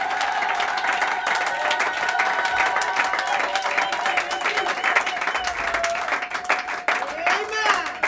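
A church congregation applauds loudly and continuously, dense sustained clapping mixed with crowd noise and a voice or singing carrying over it.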